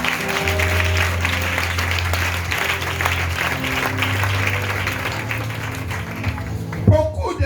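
A church congregation breaks into steady, dense applause during a sermon, the clapping continuous throughout over sustained low musical tones, with a brief louder burst near the end.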